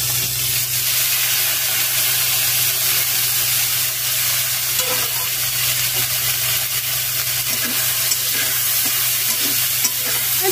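Eggplant and neem flowers fry in a pan over a flame, with a steady, loud sizzle and occasional stirring scrapes continuing throughout, no voices.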